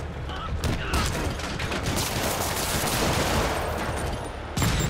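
Rockets firing in a Spider-Man video game: a dense, continuous barrage of rapid blasts and booms that stays loud for the whole stretch, with a fresh burst near the end.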